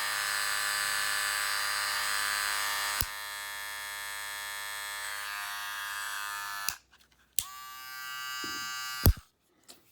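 An Andis Master hair clipper runs with a steady, loud, close buzz of blade noise. It cuts off briefly twice near the end, then starts up again.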